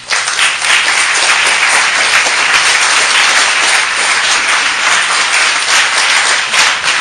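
A large audience breaks into loud, sustained applause to welcome designer Yves Behar onto the stage, a dense, steady wash of clapping that lasts throughout.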